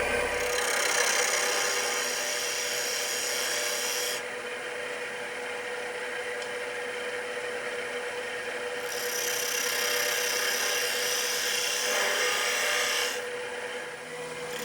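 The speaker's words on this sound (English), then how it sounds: "I use a spindle gouge to make a cove on the left" A spindle gouge cuts an offset wooden goblet blank spinning on a lathe, making a steady, continuous rasping scrape that runs for the whole stretch with only slight changes in tone.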